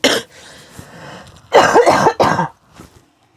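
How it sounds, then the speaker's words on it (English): A person at a craft table coughing while getting over a cold: a sharp cough, then a raspy throat-clearing stretch and a pair of louder, close coughs, with a faint trailing sound at the end. "So sometimes a little cough just sort of takes me by surprise."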